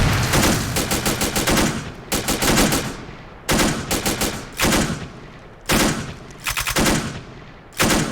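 Soldiers in the Assault Squad 2 video game lay down suppressing fire with their primary weapons: loud, rapid bursts of machine-gun and rifle fire that repeat in clusters, with short pauses between volleys.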